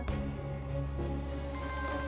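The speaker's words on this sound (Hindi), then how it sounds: "मैं आपसे बाद में बात करता हूँ, फोन आ रहा है" A telephone rings with an incoming call, a repeating electronic tone pattern heard at moderate level in an indoor scene, with no talking.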